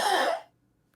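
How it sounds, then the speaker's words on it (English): A person coughs and clears their throat in one short, harsh burst lasting under half a second, up close, followed by near silence. "I'm really sorry. I keep coughing."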